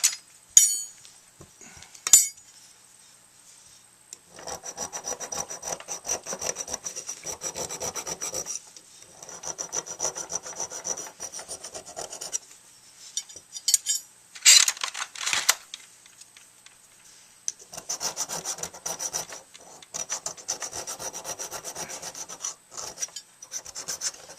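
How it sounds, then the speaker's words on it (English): Hand files rasp against a tenor sax mouthpiece being shaped by hand, giving several long bursts of quick, scratchy back-and-forth strokes separated by short pauses, close and clear with no talking. "start going to town on it with some of my files that I like to use"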